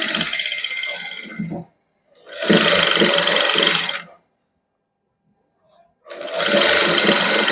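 An electric sewing machine stitches lace onto palazzo trousers in three loud, steady whirring runs, separated by short pauses of near silence.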